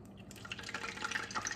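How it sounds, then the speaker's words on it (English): Water dropped into hot frying oil for conch fritters, a faint quick burst of crackling and popping sizzle lasting just over a second. "When I want to test to see if the oil is really ready, old school, like grandma used to do,"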